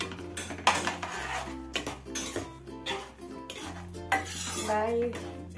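A metal spoon clinks and scrapes against a pot while carrot kheer is stirred, with repeated close, bright clatters over a steady low hum and no talking.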